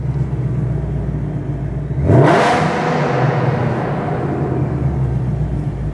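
An 800+ hp ESS supercharged 2021 Mustang GT in a parking garage lets out a sudden loud rev, surging sharply then settling into a sustained throaty roar over a steady idle rumble.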